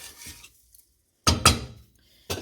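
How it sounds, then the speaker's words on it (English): A spoon stirs a pot of raw jasmine rice with salt, a couple of short, close scraping and grainy rattling bursts separated by silence. "put 1/4 teaspoon of salt in 2 cups of rice, but you can adjust the salt based on your taste. Give it a quick stir."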